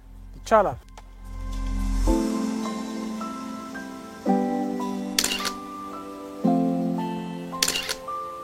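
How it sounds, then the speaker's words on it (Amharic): A camera shutter clicks twice as a photographer takes a portrait at a wedding venue, sharp bursts standing out over a sustained tonal background, with voices nearby. "ጋዜጠኛ አንድ ፎቶ ላንሳህ?"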